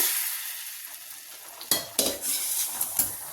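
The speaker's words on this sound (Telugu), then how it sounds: "గుడ్లు ఇలా ఫ్రై చేసుకొని ఉడుకుతున్న పులుసులో వేసుకోవాలి." Fried eggs dropped into a simmering onion gravy: a soft, steady sizzle and bubble, broken by a few sharp splashes and clinks as each egg goes into the pot, fairly quiet and close.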